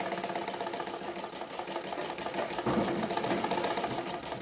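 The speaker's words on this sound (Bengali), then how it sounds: "ডাবল করে সেলাই করে দেব দেখো ডাবল করে সেলাই করে দিলাম" A sewing machine runs steadily, double-stitching the front panel of a bra-cut blouse, its needle chattering in a fast, even rhythm, close and continuous throughout.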